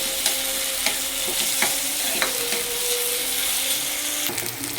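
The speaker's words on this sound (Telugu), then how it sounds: "ఇది బాగా కలుపుకోవాలి. ఆనియన్ బ్రౌన్ కావాలండి." Onions frying and sizzling in a pan while being stirred, a steady hiss broken by regular scraping strokes of the spoon, close and fairly loud with no talk.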